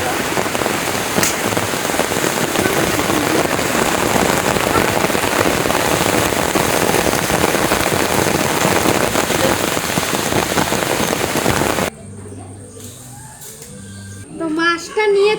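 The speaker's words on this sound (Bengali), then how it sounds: "এত পরিমাণে বৃষ্টি শুরু হয়ে গেছে" Heavy rain pours down steadily on a village yard beside a fish pond, a dense, loud, continuous roar that cuts off abruptly near the end, followed by faint indoor sounds.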